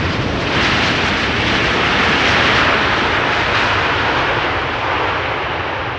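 An Airbus A380 landing on the center runway at Amsterdam Schiphol Airport, its loud, steady broadband jet roar sustained throughout and swelling slightly midway.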